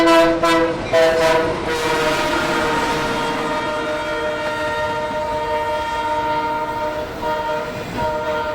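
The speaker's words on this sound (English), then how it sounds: "almost missed this stack train going to the Austell Intermodal yard." Double-stack intermodal freight train led by SD40 and SD60E diesel locomotives, opening with several short, loud horn blasts, then a long sustained horn chord over the rumble and clatter of passing cars.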